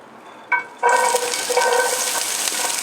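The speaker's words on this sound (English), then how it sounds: "to this oil, I am going to add all of the corn kernels" Corn kernels hit hot oil with a burst of loud, steady sizzling and crackling that carries on after a brief clatter.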